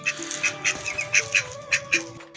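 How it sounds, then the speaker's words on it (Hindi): Ducks quack repeatedly in quick, uneven bursts, close by, over a faint steady background hum, on a rainy day in Haripur, Pakistan. "अभी बतखे जो हैं वो पानी पीने में ही मसरूफ़ हैं"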